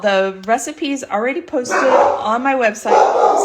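A dog barks and yips repeatedly in a home kitchen while someone talks over it about a slow-cooker beef stroganoff recipe, the barks close and loud, mixed in with her speech.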